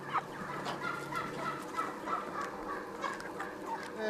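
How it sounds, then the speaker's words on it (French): Chickens in a free-range poultry house with straw bedding and an outdoor aviary cluck and call continuously, many birds overlapping at moderate volume. "Les poulets évoluent à leur gré entre le bâtiment et la volière extérieure."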